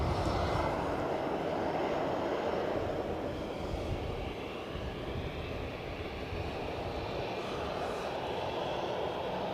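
An aircraft departing from Edinburgh Airport gives a continuous broad engine roar at a constant, moderate distance, steady and uninterrupted with no voices.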